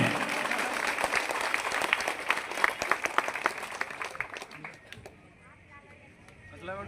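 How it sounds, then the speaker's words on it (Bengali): A crowd at a felicitation ceremony claps loudly and continuously, with voices mixed in over the clapping, before the applause fades out near the end. "জোরে হাততালি"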